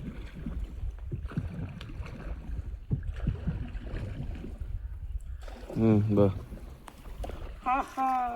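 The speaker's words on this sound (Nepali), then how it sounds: "भाइले चाहिँ डुङ्गा चलाइरहेछ" A rowing boat is paddled across Kupinde lake with soft, steady water sloshing and wind rumble, while people talk nearby.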